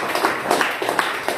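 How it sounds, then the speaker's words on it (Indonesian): An audience at a stand-up comedy show claps for a couple, a brief spell of scattered, fairly close hand claps forming a light, continuous round of applause. "Tepuk tangan dulu buat Bapak dan Ibu Fatol."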